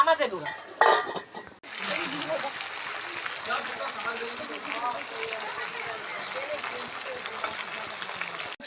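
Stirring mutton curry and fried potatoes in a pot, with steady scraping and clinking against the metal under a dense, hissing bed of cooking noise that follows a brief rustle at the start.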